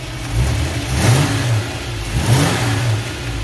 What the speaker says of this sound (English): As you could hear, engine sounds pretty good. Got good throttle response.